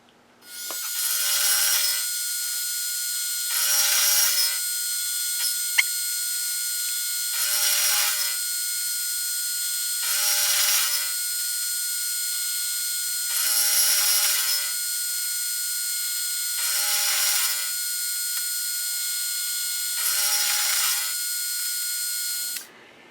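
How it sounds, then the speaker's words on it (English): A metal milling machine cuts in repeated passes, each a bright whining burst lasting about two seconds and separated by short quieter gaps, steady and close with no talking. "I suddenly realised I was climb milling on one pass"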